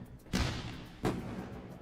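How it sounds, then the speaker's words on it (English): Two booming fireworks-style blasts burst in a sound effect marking a winning trade, each a sharp loud thump with a fading rumble about a second apart, no talk. "And you guys miss to celebrate with the fireworks."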